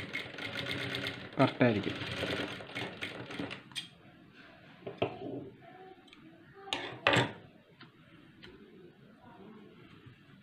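A sewing machine stitching a blouse runs in a fast whirring burst near the start, then gives a few short clicks and taps as the work is adjusted, while someone talks over it.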